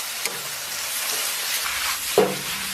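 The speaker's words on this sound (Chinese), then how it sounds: "香菇丁下到锅中翻炒" Diced shiitake mushrooms and beef stir-frying in a hot wok with chili sauce, a steady loud sizzle with a few stirring scrapes and clanks near the end.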